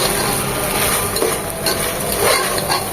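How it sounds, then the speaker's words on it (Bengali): Polao rice, a kilo of fragrant short-grain rice, stirred and dry-fried in a pan until crisp, a loud continuous close-up sizzle with scraping crackle and no voices. "যখন শক্ত হবে ভাজা ভাজা হয়ে যাবে ততক্ষণ পর্যন্ত চালটাকে নেড়ে ছেড়ে ভেজে নেব"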